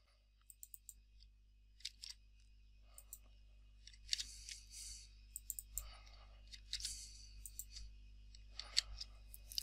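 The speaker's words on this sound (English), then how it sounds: "And click on save" Computer mouse clicks, close and faint, come in sparse single taps and short bursts over a low steady hum, with no one speaking.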